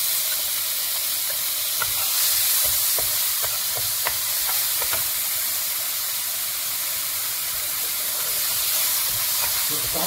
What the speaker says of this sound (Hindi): अब मैं थोड़ा सा ऑयल डाल के एक टमाटर को मैंने चॉप किया है उसको हम इसमें शामिल कर देंगे।